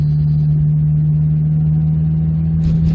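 A 1964 Austin 1100 Mark I engine drones steadily from inside the car while driving, a low, even hum holding constant throughout, with a brief brighter burst of road or wind noise near the end.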